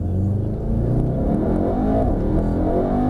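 Mercedes-AMG E63 S Estate accelerating hard in Sport Plus with the exhaust open, a loud, close engine roar rising steadily through the revs inside the car.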